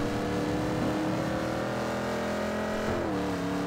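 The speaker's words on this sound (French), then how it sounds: "En plus, ouais, elle drift." A car drifting in a GTA roleplay game, its engine droning loudly and steadily with shifting pitch as it slides, alone without talk.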